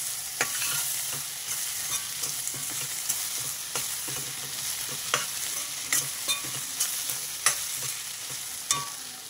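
Masala frying in onion paste in a pan gives a steady soft sizzle while a spoon stirs it, with repeated light scraping clicks against the pan, close and moderately quiet with no talk.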